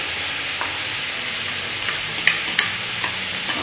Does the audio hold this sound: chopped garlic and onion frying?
yes